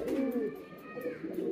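A pigeon, a Sirazi breed, coos close by in a short series of low throaty rolling calls, rising and falling twice over a brief stretch.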